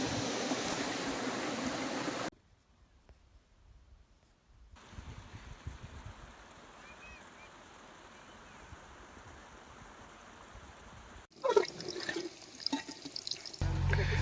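Water gurgling and flowing in a stream in rural Odisha, a faint, continuous rushing that changes level abruptly across several sections, with no talk over it.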